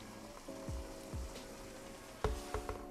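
Blended curry ingredients poured into a hot pot for fish head curry, giving a faint sizzle and spatter with a few soft knocks, quiet and close.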